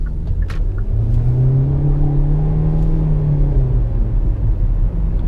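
A 2021 Hyundai Elantra SEL, front-wheel drive, cornering on a track with stability and traction control switched off: a loud, steady engine drone that rises and falls in pitch through the turn, with a low road rumble underneath.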